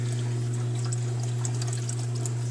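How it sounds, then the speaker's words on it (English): An aquaponics bell siphon drains water at full flow, a steady continuous rushing and gurgling wash with a constant low hum underneath, close and unbroken throughout. "So now it's siphoning at full power"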